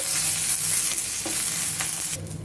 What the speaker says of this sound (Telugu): అలాగే ఇందులో కొద్దిగా పచ్చి కరివేపాకు వేసుకోవాలి మీడియం ఫ్లేమ్లోనే ఇలా కలుపుకుంటూ వేయించుకోవాలి